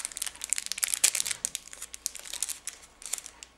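Plastic packaging around a Nip makeup brush being unwrapped, giving a close run of sharp crinkles and crackles with brief tearing bursts over about four seconds, no talking.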